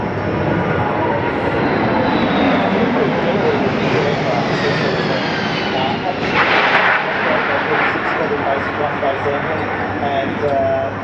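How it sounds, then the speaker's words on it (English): C-17 Globemaster military transport aircraft pass over an airshow in Australia, a loud, broad engine roar that fills the whole stretch while a commentator talks over it. "we see the C-17 Globemasters coming through right now"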